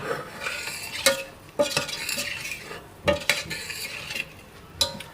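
Chicken macaroni masala is stir-fried in a pot: a close, loud series of metal spoon scrapes and clanks against the pot rises over a light sizzle, coming in several separate bursts.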